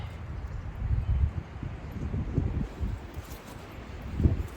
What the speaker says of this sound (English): it is getting a bit windy, so hopefully these will not blow away in the wind.